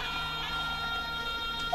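Police siren wailing in a Tamil-dubbed action movie, a steady electronic tone sustained throughout under a dense film soundtrack, moderately loud.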